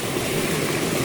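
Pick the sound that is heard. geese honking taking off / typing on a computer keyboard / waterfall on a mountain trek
waterfall on a mountain trek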